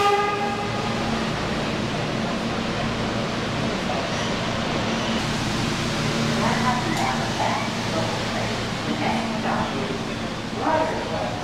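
A New York subway train pulls into the platform en route toward East Broadway, a loud steady rumble of wheels and cars filling the whole stretch, with brief horn-like tones early on and voices in the background.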